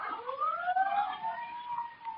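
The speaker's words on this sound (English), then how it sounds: "Sirens. Can't you hear them?" Police sirens wail in an old-time radio drama, a muffled rising and falling tone that sweeps upward as if approaching, heard alone with no voices.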